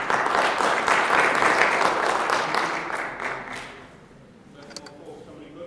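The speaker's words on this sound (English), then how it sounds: "give him a round of applause, ladies and gentlemen" High school audience at Ballou High School applauding a guest speaker, a full, steady round of many hands that tapers off near the end, followed by faint sounds.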